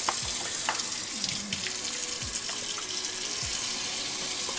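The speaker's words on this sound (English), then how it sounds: "I'm washing my hands, you can actually hear the water running." Water runs steadily from a home kitchen tap during hand washing, a continuous hissing splash with small irregular drips and clinks, close and fairly loud throughout.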